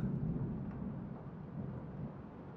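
Steady rain and a low, continuous thunderstorm rumble, faint and distant, with no voices.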